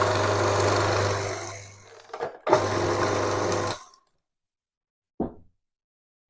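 A food processor blends a pesto crust mixture for baked cod in a home kitchen, giving two whirring motor bursts with a brief pause between them, then a short clatter after the motor stops.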